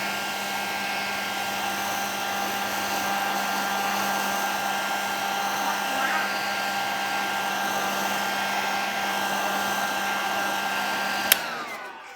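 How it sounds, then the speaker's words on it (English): Heat gun warming vinyl wrap on a car body panel during wrap removal, a steady, loud, close blowing whine holding for about eleven seconds before a sharp click as it switches off. "Make sure you keep the heat gun moving."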